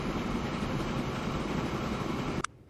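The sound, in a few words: freight train passing in video game Transport Fever 2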